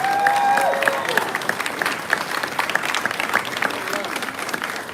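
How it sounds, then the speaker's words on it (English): Audience applause with some cheering for first-time attendees standing up at a Republican county convention in Lexington County, South Carolina; a steady crowd clapping throughout, with a whistle-like tone near the start. "let's give these folks a big round of applause"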